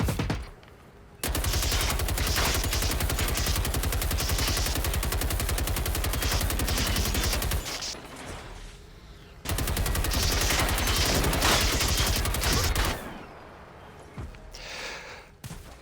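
Sustained automatic gunfire in the video game Generation Zero, two long loud bursts of several seconds each separated by a short pause, with quieter ambient noise in between.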